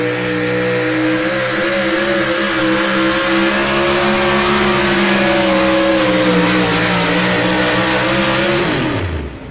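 An SCS Gearbox pulling truck makes its run at a truck and tractor pull in Bowling Green, Ohio, its engine roaring loud and close in a sustained high rev with a slowly rising pitch, then cutting off sharply at the end.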